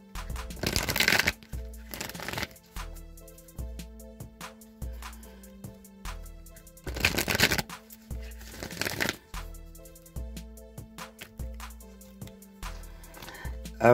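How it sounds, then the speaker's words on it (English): A Wisdom of the Oracle card deck is shuffled in several bursts of riffling and flicking, loud and close, with short pauses and soft tapping between them. "I'm going to give this deck a few shuffles"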